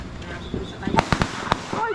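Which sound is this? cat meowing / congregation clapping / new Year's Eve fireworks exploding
new Year's Eve fireworks exploding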